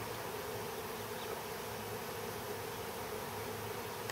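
A large honeybee swarm streams back down to the Warre hive it swarmed from, its dense, steady buzzing filling the air close by without pause or voices.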